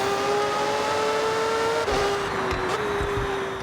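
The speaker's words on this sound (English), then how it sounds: "It has a glorious rotary engine which just sounds incredible." A Mazda Furai with a rotary engine in Forza Horizon 6, holding a loud, steady high-pitched buzzing drone, briefly dipping and shifting pitch as it changes gear before climbing again, with no voices.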